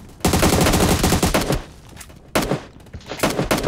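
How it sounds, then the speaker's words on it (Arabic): Loud rapid gunfire bursts close by in the video game PUBG Mobile, a fast stuttering volley followed after a brief pause by another burst of shots. "ضرب كان طلقة"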